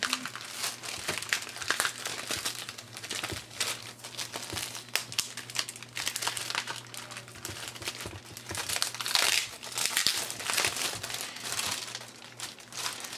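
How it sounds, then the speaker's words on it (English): Packaging around a Toshiba Ultrabook Z935-P300 laptop is unwrapped with close, continuous crinkling and rustling of plastic wrap, in irregular bursts that rise and fall over several seconds. "We'll go ahead and unwrap this."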